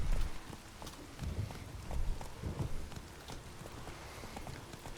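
Horse hooves cantering through a rainy night in The Witcher 3: Wild Hunt, a rhythmic clip-clop of repeated thuds against a soft background of falling rain.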